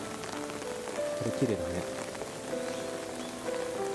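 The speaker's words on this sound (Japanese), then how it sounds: "今日雨で曇ってるんでね" Steady rain patters over a rose garden at Gifu World Rose Garden (Hana Festa) on an overcast day, a soft continuous hiss beneath a person speaking briefly.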